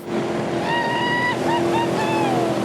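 A water-ski tow boat runs across the River Derwent with a steady engine drone, wind and rushing water, while a few higher whining tones rise and fall over the top.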